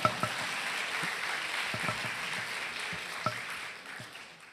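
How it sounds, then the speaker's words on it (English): Steady applause from a closing ceremony audience, a dense wash of many hands clapping with a few sharper claps standing out, tapering off slightly toward the end. "You can clap now."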